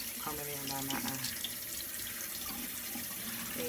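Tap water runs steadily into a sink to warm up, a continuous hiss and splash throughout, with faint tonal sounds early on and no clear speech.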